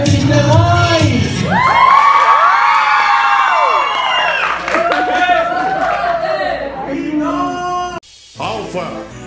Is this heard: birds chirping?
no